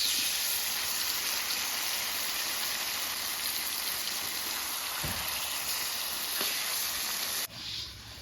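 Marinated chicken fries in a pan with browned fried onions, giving a close, steady, hissing sizzle that holds evenly before dropping suddenly near the end, with one or two faint knocks.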